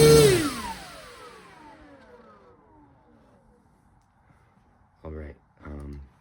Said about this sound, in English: You want to secure the rear of your aircraft with your feet, and then you want to test your throttle.